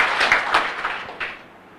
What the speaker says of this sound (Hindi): एक बार ताली बजाएं अपनी संस्था के लिए